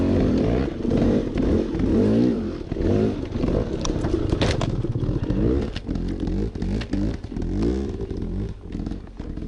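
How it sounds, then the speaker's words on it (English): Off-road vehicles rev their engines on the Lily Pond Trail in Taylor Park, Colorado, a loud, sustained engine roar with rising and falling throttle bursts, plus clattering and scraping over rough ground. "I'm not sure what we were doing here, revving our engines,"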